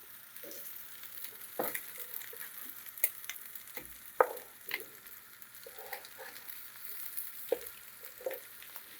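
A herb crusted haddock fillet sautés in a pan, giving a faint, steady sizzle with soft crackles and scattered light clinks of utensils; no voices.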